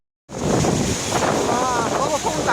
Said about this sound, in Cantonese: 嗰個風大到咧，打橫一陣陣啊